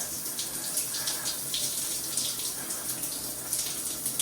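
Water streams steadily from a shower just fitted with a replacement cartridge, a continuous hissing rush with a bright splashing texture that holds evenly throughout and is heard alone.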